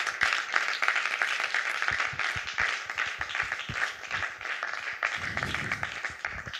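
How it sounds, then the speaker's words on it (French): A church audience bursts into applause to acclaim God during a broadcast, clapping steadily and loudly for several seconds with scattered sharper claps standing out from the crowd. "Est-ce qu'on peut acclamer Dieu pour cette émission? Acclame bien le Seigneur."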